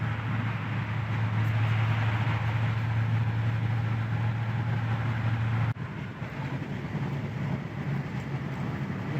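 Steady engine drone and road rumble from inside a Chevy box car with an LS engine swap on its first drive, continuous and fairly loud, with a brief dip partway through.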